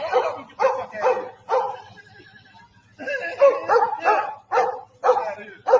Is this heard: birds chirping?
no